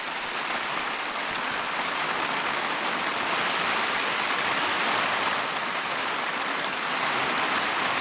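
Steady rain shower falling across open Dartmoor moorland, a dense continuous hiss of drops without thunder, even and close all around, with no voices.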